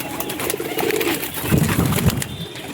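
Several pigeons coo in a wire-netted loft, low throaty calls swelling and overlapping over a couple of seconds amid a busy background, with occasional wing rustle.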